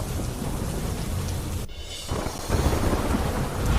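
Heavy monsoon rain pours down in Surat, Gujarat, with thunder rumbling underneath, a steady close roar of downpour that briefly dips before surging louder again.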